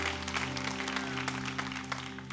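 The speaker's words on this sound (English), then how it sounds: "clap your hands and say a good amen" A church congregation claps together at moderate volume over a steady sustained tone, a brief burst of hand claps with no voices on top.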